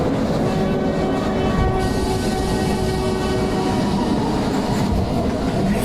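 A train runs steadily throughout, a continuous loud rumble with faint rail clatter and a sustained whistle-like tone, set in an animated horror story aboard a haunted train at night.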